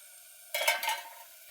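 Green chillies roasting in a hot pan give a short burst of sizzling and scraping that flares up briefly, then settles back to a low hiss.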